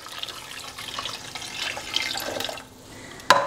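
Water poured from a tap or jug into a cooking pot holding chicken for kabsa, a steady splashing rush that thins near the end before a brief sharper clatter.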